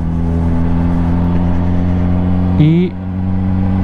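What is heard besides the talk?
Honda CBR motorcycle engine revving on farewell ride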